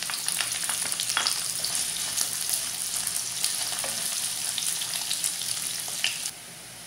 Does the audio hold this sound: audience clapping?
no